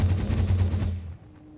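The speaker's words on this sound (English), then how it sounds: "So let's head on over in this human cannon launcher that I put down here." A human cannon launcher in Satisfactory fires the player off with a loud, rapid burst of rattling blasts lasting about a second, then drops to a faint hum.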